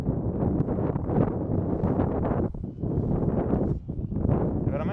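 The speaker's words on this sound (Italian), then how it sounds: "Wow, ragazzi, questo vento è disastroso" Strong gusty wind buffeting the microphone during a Durafly Night Tundra RC plane flight, a heavy low rumble that surges and dips in uneven gusts.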